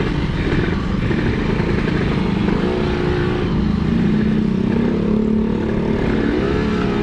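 Yamaha RX King two-stroke motorcycle engine droning steadily and close throughout while riding on the road, with rising and falling revs as the rider shifts through the gears.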